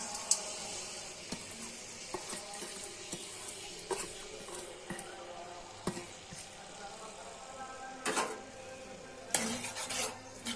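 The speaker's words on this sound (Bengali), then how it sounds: "পেঁয়াজগুলো নেড়ে ছেড়ে বেজে নিচ্ছি।" Onions stirred and fried in hot oil in a wok for a Bengali chepa shutki biran bhorta, with steady sizzling broken by repeated scrapes and clinks of a spatula against the pan.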